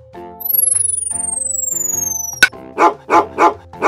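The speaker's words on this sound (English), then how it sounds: "Dog." A dog barks four times in a row, close and loud, after a stretch of bright sustained musical tones with a sweeping whistle-like effect.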